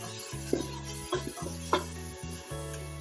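A spoon stirs chickpeas frying in tomato paste in a pan, a few scraping strokes roughly every half second over a soft steady sizzle.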